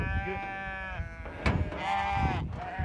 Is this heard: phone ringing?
no